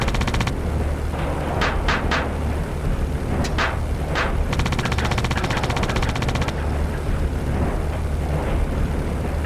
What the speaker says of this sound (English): someone is shooting at me